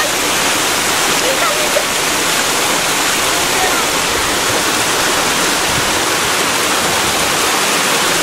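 A loud, constant roar of water falling down a 50 ft waterfall fills the scene, a steady broadband rush with no letup and no voices heard.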